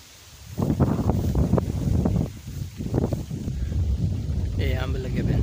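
Strong wind blows across a village in the evening, roaring and buffeting the microphone in loud gusts. A voice talks over the wind throughout.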